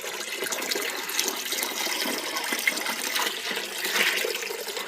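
The last potful of water is poured from a pot into a fish tub with soil at the bottom, making a continuous close splashing gush with no talking.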